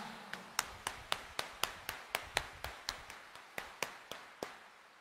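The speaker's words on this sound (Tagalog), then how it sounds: "Itaas nga ang kamay at pumalakpak ng mas malakas" A church congregation at a Quiapo mass claps in a slow, steady rhythm, each crisp clap evenly spaced and distant in a quiet hall.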